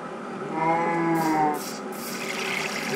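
A mooshroom cow in Minecraft gives a single clear, drawn-out moo, close and distinct, followed by soft rustling game sounds.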